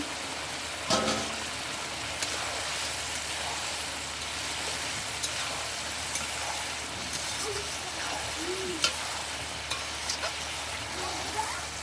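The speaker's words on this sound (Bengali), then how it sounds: "মাংসটা কষিয়ে নিব" Chicken being stir-fried in a pan gives a soft, even sizzle with occasional light clicks of a stirring utensil, fairly quiet and continuous.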